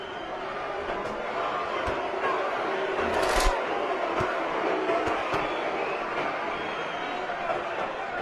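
A big arena crowd at the Pacquiao vs Marquez boxing fight keeps up a steady roar and murmur, with a brief swell of cheering. Commentary voices run over the crowd noise.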